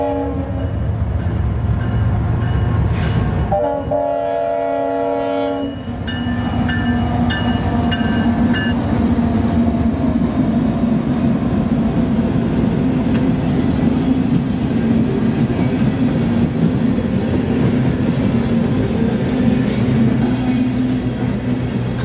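CSX freight train 823 passing at speed, opening with a loud blaring horn blast of about two seconds, then a sustained heavy rolling roar with steady rumble and rail noise continuing to the end.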